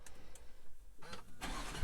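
A 2020 Bentley Bentayga engine cranks and catches, then settles into a steady running rumble after a brief quiet stretch.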